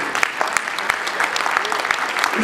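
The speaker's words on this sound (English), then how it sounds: "Ladies and gentlemen, a round of applause." Dense audience applause at a dinner held at Hotel Africana, many hands clapping steadily and close, with faint voices mixed in.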